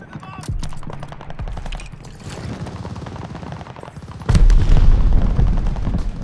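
Gunfire from above in the Call of Duty Vanguard video game: rapid machine-gun bursts and single shots, with booms and battle noise, rising to a louder, heavier barrage near the end.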